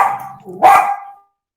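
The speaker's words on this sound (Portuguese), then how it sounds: "Nossos cachorrinhos hoje estão ativos." Dogs at home bark during an online panel discussion, a couple of close, sharp barks in quick succession, with no clear speech over them.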